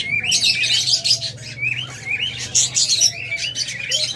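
A pair of rainbow budgerigars chirps and twitters continuously at close range, with rapid overlapping tweets and warbles and a steady low hum beneath.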